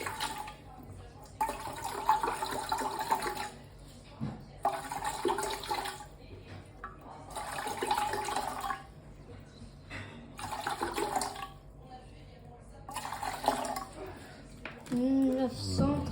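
About 900 grams of water is poured into a pizza dough mixture in several separate bursts of splashing and running water. The pours sound fairly close, and a voice can be heard at the end.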